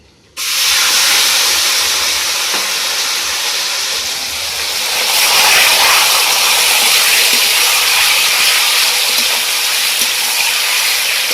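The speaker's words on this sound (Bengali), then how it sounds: "তেলটা গরম হয়ে গেছে এবার যে আমি মাংসটা ম্যারিনেট করে গেছি আমি মাংসটা এর মধ্যে দিয়ে দিই" Marinated chicken drops into hot oil with a sudden loud hiss that swells into a continuous, intense sizzle and spatter, close and unbroken, with no talking.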